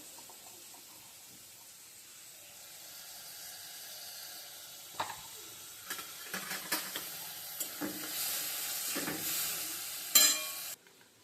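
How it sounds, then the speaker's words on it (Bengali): Food seasoned with turmeric sizzles in a pan, frying slowly until crisp. A quiet hiss builds over time, with repeated sharp clinks and scrapes from stirring. "একদম মচমচা করে ভেজে নেব আস্তে আস্তে ভাজা হোক"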